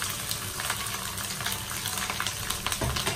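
Grated coconut frying in hot oil with dried red chillies for Onam koottukari, a steady close sizzle with light stirring scrapes running throughout, no talking.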